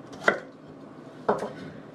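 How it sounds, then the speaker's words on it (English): Two crisp knife chops on a board while cutting parsnips, potatoes, celery and onion for an Instant Pot beef stew, one sharp stroke then another about a second later, close and alone. "right now I am chopping up some parsnips and some potatoes and some celery and onion"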